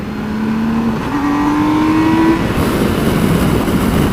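A 2019 BMW K1600B motorcycle engine drops into third gear and accelerates, giving a loud close drone that steps up in pitch and then rises steadily under heavy wind rush.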